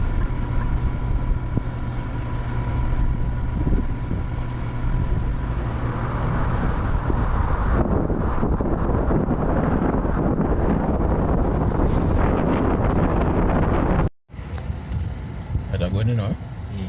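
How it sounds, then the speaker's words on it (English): A 2022 Nissan X-Trail e-Power e-4orce accelerating hard from 0 to 100 km/h in sport mode, a loud, continuous rising drone of engine and road noise with wind rush, ending in a brief cut before the noise resumes. "This is what it looks like when you are accelerating from 0 to 100 kilometers per hour."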